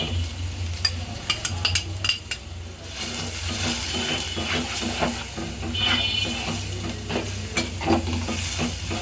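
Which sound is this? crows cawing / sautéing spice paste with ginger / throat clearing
sautéing spice paste with ginger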